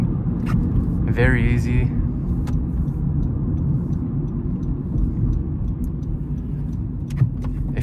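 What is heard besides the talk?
2019 Honda Civic LX 6-speed manual engine while downshifting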